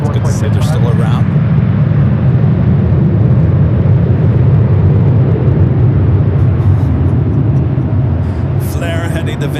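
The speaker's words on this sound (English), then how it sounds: "Flare heading to Vancouver. It's flight 1889, a 6-year-old 737 and MAX 8." A six-year-old Flair Airlines Boeing 737 MAX 8, flight 1889 to Vancouver, departs LAX with a loud, sustained, rumbling jet roar that fills the whole stretch, while people talk over it.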